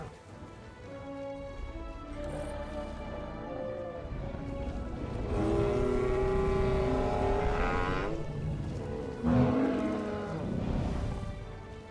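Nasutoceratops dinosaurs in the game Jurassic World Evolution give long, low, moaning bellows, one rising into a sustained tonal call midway, heard up close over a steady rumbling backdrop.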